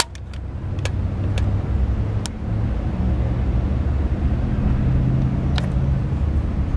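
A ZAKKA KDE-60KVA3 diesel generator runs with a loud, steady low rumble and a few sharp clicks near the start, holding an even drone throughout.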